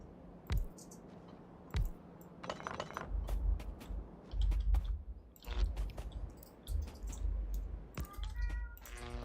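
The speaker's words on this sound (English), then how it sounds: "I have to go appease a cat" A house cat meows a few times up close, mixed with thumps, rustling and clinking glassy knocks nearby, loud in bursts and uneven in rhythm.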